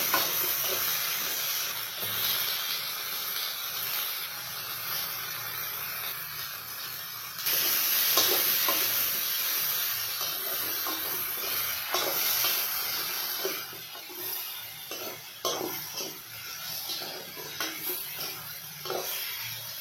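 Cabbage fries in a pan with a continuous bright sizzle and steam hiss, swelling louder partway through and broken by occasional stirring scrapes and crackles.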